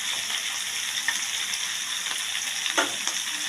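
Shrimp frying in oil with turmeric, chilli powder and salt, a loud continuous close sizzle with faint stirring scrapes and occasional pops, no speech.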